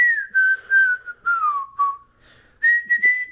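A person whistles a short melody from Disney's Robin Hood: a few clear, sustained notes that glide down and then back up, with no other sound.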